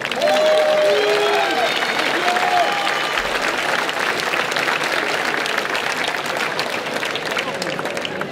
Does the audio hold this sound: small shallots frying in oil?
no